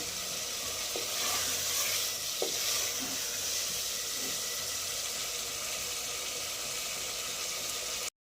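Chicken for a thick, spicy Bengali kosha curry is stir-fried in a pan, with a continuous, even sizzle and a few soft scrapes of the spatula early on, holding steady close by.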